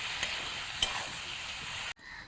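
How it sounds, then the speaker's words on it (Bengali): Ground spices such as turmeric and coriander-cumin powder are fried and stirred in hot oil for a Bengali fish curry with taro, giving a steady close sizzle. A brief scrape comes near the start, and the sound cuts off just before the end. "এবার সবগুলো ভালো করে কষে নেব।"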